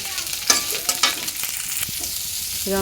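Fish frying in a pan, steady soft sizzle with a few sharp crackles and the scrape of stirring, fairly quiet and close with no voices.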